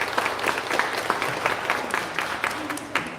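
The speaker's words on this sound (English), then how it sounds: "So round of applause for Victoria." Audience at a pastry arts competition awards ceremony applauding, a steady patter of clapping from a moderate-sized crowd, fairly close, with faint voices underneath.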